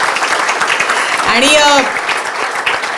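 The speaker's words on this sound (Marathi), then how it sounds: "तर त्या लोकांसाठी मला असं वाटतं एकदा टाळ्या वाजवूयात आपण." An audience at an interview event breaks into steady applause, lasting a few seconds before tapering off, while a voice speaks through it.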